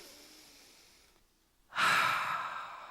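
A slow breath during a guided meditation, first a faint quiet intake, then a brief pause and a loud, airy exhale that fades gradually, with no talking.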